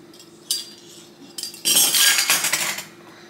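Cake batter with a teaspoon of vanilla being mixed in a bowl, heard as scraping and clinking of a utensil against the bowl in several bursts, growing louder and busier toward the end, with no talking.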